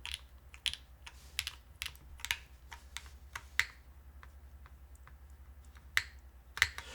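Typing on a newly built DNworks 02 computer keyboard: sparse, irregular clacks of individual keystrokes, close and quiet, with no voices.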